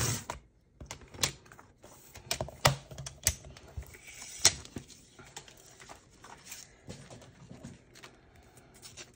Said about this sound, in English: Use my paper trimmer to trim it down.